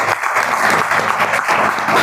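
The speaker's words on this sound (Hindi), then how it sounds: "जोरदार ताली आपको।" An audience at a Teacher's Day school event gives students a round of applause, a dense, steady clapping from a crowd that stays loud for the whole stretch.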